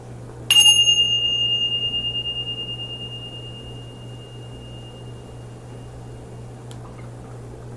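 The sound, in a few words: bell rung to clear energy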